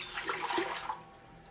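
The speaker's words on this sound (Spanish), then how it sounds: "Y la cacerola la vamos a poner aquí en flama casi alta y vamos a poner el agua ahí." Water splashes briefly into a saucepan on a stove over a medium-high flame, a short gushing pour that trails off into quiet.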